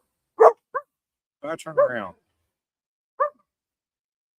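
Neighbors' dogs barking, a few sharp barks in short bursts, fairly close against silence, with someone speaking briefly between them.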